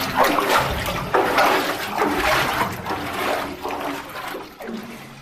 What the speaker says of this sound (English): holes like this drain the water away